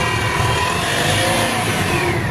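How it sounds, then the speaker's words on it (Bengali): A TATA pickup engine runs with the accelerator pressed, a loud, close, steady mechanical roar that holds an even level throughout, with no voices. "এই হচ্ছে গাড়িটার ইঞ্জিনের সাউন্ড যদি আপনাদের শুনিয়ে দেই। তো ভাই একটু এক্সেলারেটরটা একটু বাড়িয়ে দেয়"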